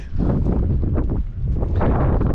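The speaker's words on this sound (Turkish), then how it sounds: "Bugün hava çok rüzgarlı" Strong wind buffets the microphone in loud, rumbling gusts that surge and ease over a couple of seconds.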